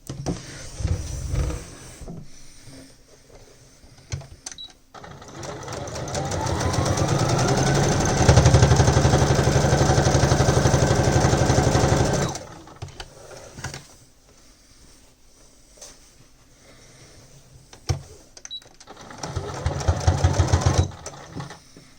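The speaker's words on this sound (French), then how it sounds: "je vais coudre le côté ici, ainsi que celui-là" Sewing machine stitching the side of a bag organizer: a steady, close motor whir with rapid needle clatter runs for several seconds, bracketed by shorter, quieter bursts of sewing and handling noises.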